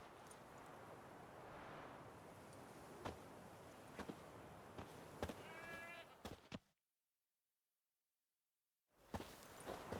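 A goat tied to a stake as forktail bait in The Witcher 3 bleats once amid steady outdoor ambience with scattered clicks. The scene then drops briefly into silence before the background returns.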